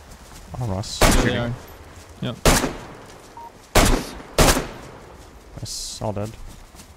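Suppressed-ammo gunfire in DayZ comes as several sharp, loud cracks in irregular succession, spaced over a few seconds, with a player's voice talking between the shots.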